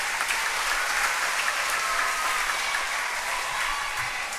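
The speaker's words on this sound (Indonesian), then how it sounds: "tepuk tangan juga lah suster-suster" Steady congregational applause for the nuns at a Sunday Mass in church, a dense, even patter of many hands sustained throughout without talk.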